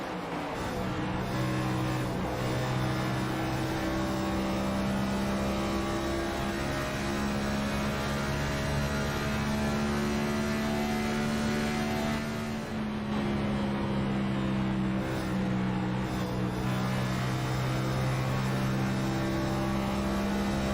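Onboard with Chris Worrell's race car at the Chicagoland 200, the engine drones loud and close, its steady rev tone wavering slightly as the throttle is blipped through a corner.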